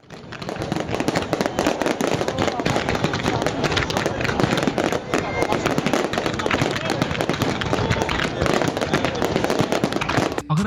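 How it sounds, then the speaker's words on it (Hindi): Dense, continuous volley of crackling bursts and booming pops from a large, expensive fireworks show, loud and relentless throughout with no pauses. "दुनिया में सबसे महंगी आतशबाज़ी शो"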